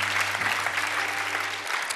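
Audience clapping at a live improv theatre performance during a music awards ceremony, a steady dense burst of applause filling the hall, moderately loud, with no voices standing out.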